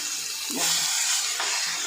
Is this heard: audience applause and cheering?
no